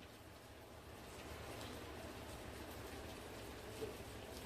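Rain falling outside, a soft, distant hiss of steady drops pattering on surfaces, faint and continuous with a slight swell partway through and a small spike near the end.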